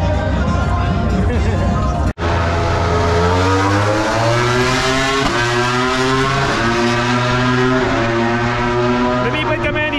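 Loud racing motorcycle engines roar past at high speed, pitch rising and falling as they pass, with a brief cut near the start and constant engine noise throughout.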